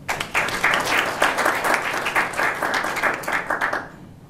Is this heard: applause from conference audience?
yes